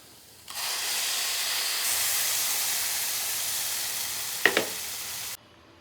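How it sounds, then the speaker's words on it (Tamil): A loud, steady sizzle and hiss as ground paste hits a hot pan for paneer gravy, lasting about five seconds, with a couple of brief clinks near the end before it cuts off. "இப்போ நாம் அரைச்சி வச்சுருக்கிற இந்த விழுதை இதில் சேர்த்திடலாம்."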